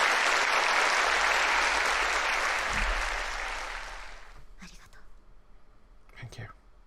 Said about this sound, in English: a wave of applause washes over us